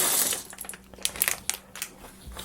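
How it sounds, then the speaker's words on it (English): Plastic bags from a Lego Creator Double Decker Bus set crinkle and rustle up close, with a burst of crumpling at the start followed by irregular crackles and small clicks, no voices. "Get rid of these plastic bags as quick as I can"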